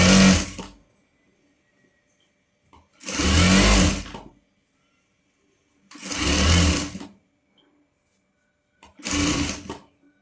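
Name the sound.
sewing machine stitching an umbrella frock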